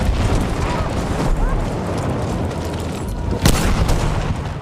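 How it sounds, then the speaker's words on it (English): Dense World War II battle noise in Battlefield 5, with rolling explosions and gunfire rumbling continuously, one sharp loud blast standing out near the end, and a voice talking over the din. "gunfire and explosions ring throughout the beautiful but war-torn landscapes"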